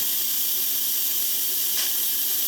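An Instant Pot vents steam in a steady, loud, continuous hiss that stays even throughout, with a brief faint pop partway through.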